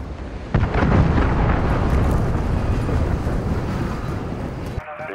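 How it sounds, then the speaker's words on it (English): A cruise missile strike in the Call of Duty: Modern Warfare video game: a sudden loud explosive blast followed by a long, dense rumbling roar that sustains for several seconds, then cuts off abruptly near the end. "Allied cruise missile launched."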